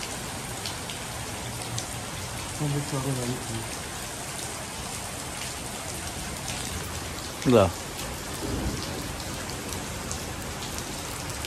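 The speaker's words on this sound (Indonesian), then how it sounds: "Suasana masih hujan." Steady rain falls across the whole stretch, a dense even patter on surfaces, with a few brief words spoken faintly over it.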